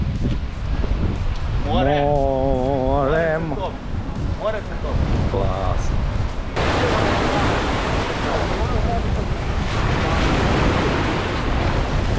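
Black Sea surf breaking on the shore at Chornomorske, a loud continuous wash of waves with wind buffeting the microphone, while people talk over it early on.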